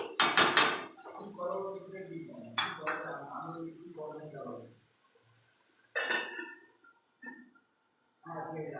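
A metal lid goes onto a cooking pot of chicken with apple, making a few sharp clanks and clatters spaced out between stretches of a person talking nearby.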